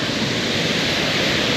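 Thundering water pouring off a reservoir into a brook, a loud, dense, unbroken roar heard close up with no voices over it.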